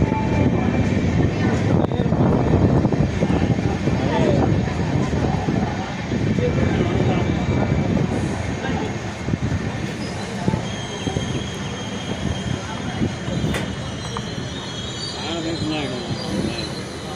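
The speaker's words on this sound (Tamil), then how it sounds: "நமது ரயில் கும்பகோணத்தை விட்டு புறப்பட்டு விட்டது பாருங்க." A passenger train pulls out of Kumbakonam railway station on a rainy day, its broadband rumble and rattling wheels steady and loud throughout, with faint squeals and voices mixed in.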